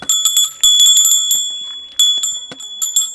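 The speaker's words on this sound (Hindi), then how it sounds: "या एक घंटी साथ रखिए।" A handheld bell carried in forest to warn off sloth bears rings in bright, quick repeated jangles, loud and close, with short irregular pauses between bursts.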